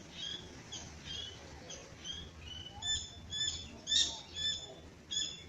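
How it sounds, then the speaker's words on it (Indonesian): Sooty-headed bulbuls sing in a backyard with big trees in the late afternoon, giving bright, repeated chirps and whistles at moderate distance over a soft, steady background. "burung kutilang"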